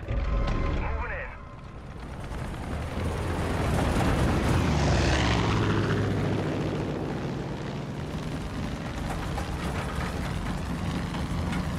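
Propeller plane flying in the video game Far Cry 5, a loud sustained engine drone swelling and passing overhead amid gameplay rumble and effects, with a brief dip early on.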